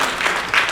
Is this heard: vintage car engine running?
no